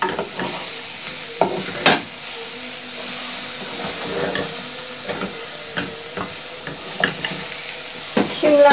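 Capsicum fries and sizzles in a pan with a steady hiss, while a spoon stirs it in repeated scraping strokes that come close and fairly loud.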